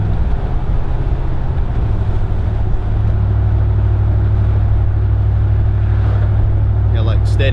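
Deep steady exhaust rumble from a 2019 Ram Rebel 1500 pickup fitted with a Carven cat-back exhaust, idling loud and close and holding a low continuous drone throughout, with a brief higher sound near the end.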